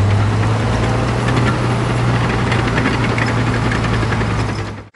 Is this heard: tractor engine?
yes